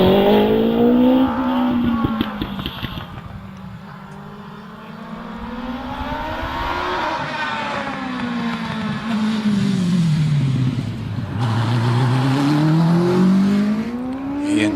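An OMS 28 hillclimb race car with an overbored 1670cc Hayabusa engine climbs the course at Harewood, the engine screaming loud and close, pitch rising and falling through repeated gear changes and revs.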